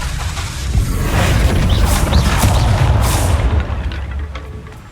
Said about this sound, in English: when I turned it into an exploding barrel